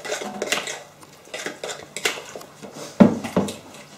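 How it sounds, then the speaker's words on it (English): Turkey mince being mixed with egg whites and onion in a bowl: irregular clinks and scrapes of utensil on dish, with a few sharper knocks, close and moderately loud, no talking. "I'm mixing turkey mince with the egg whites and onion."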